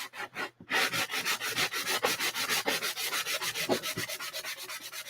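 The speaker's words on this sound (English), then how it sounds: "I'm just going to sand it using my trusty sanding blocks from Dollar Tree" Wood is rubbed with a handheld Dollar Tree sanding block in quick, even back-and-forth strokes, close and fairly quiet, about a dozen rhythmic passes after a brief pause.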